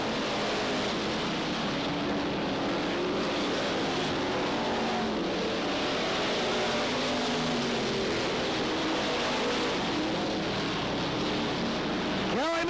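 Race cars lapping at Cottage Grove Speedway during a 1991 fall classic event, a continuous roaring wash of engines from several cars at a distance, steady and full throughout with crowd-like noise mixed in.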